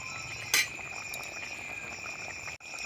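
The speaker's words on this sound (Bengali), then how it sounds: "এবার ঝোলটাকে আর আমরা 2-4 মিনিট একটু ফুটিয়ে নেবো" A thin fish curry gravy simmering in a pan, a steady low bubbling hiss close by with a faint tonal whine, one brief clink near the start and a short dropout near the end.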